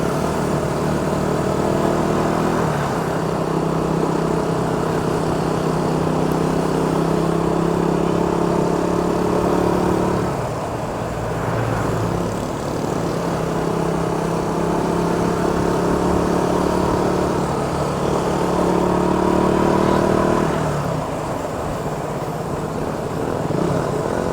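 A steady motorcycle engine drone with harmonic bands rises and falls in pitch over the whole stretch as the bike strains riding uphill and heats up, loud and close, no talking.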